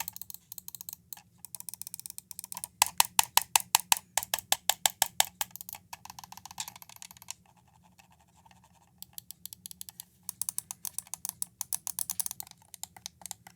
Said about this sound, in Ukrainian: Пропоную послухати клік.